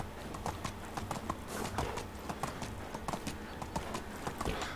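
Horse hooves clip-clop steadily in Medieval Dynasty, a quick regular rhythm of close, crisp hoofbeats on the ground, ridden at an unhurried pace with no voices over it.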